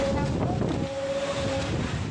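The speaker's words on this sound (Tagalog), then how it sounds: "rinig ang malabuhawing lakas ng hangin dala ng bagyong Tino" Strong typhoon winds from Typhoon Tino lash El Nido, Palawan, amid heavy rain, making a loud, constant roaring rush of wind that buffets the microphone, with a faint steady tone running beneath it.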